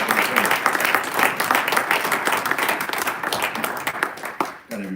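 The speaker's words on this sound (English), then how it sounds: "But let's get a round of applause for the parents because it's been a grind for the last 4 years." Round of applause for parents at a National Signing Day event, a room full of people clapping steadily and fairly close, with brief scattered voices as it tapers at the end.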